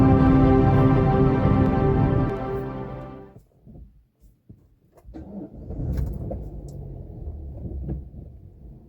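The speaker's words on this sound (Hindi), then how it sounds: "अब गाड़ी करते हैं अंदर" A car pulls into a house, its engine running loud and close for a few seconds before cutting off, followed by quieter rumbling and scattered knocks.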